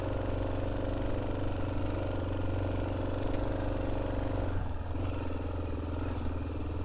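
A 1988 Yamaha Ténéré motorcycle engine pulls steadily in second gear on compacted sand in a flooded canyon, a continuous near drone with a slight dip in tone toward the end and no talk.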